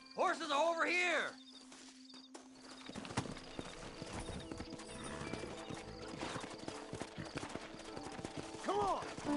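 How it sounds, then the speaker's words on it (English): Horse hooves clip-clop steadily in Red Dead Redemption, with a horse whinnying loudly at the start and again at the end, and game characters talking in between. "Horses are over here!"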